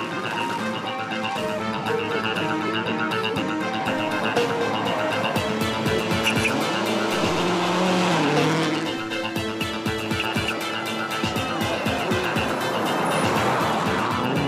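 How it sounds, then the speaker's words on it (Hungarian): A Subaru World Rally Team car roars at high speed during the 2006 Rally Sweden, engine screaming through rapid gear changes with gravel and tire noise, loud and continuous. "A tökéletes autóval és egy jó adag önbizalommal Peter elképesztő iramot diktál"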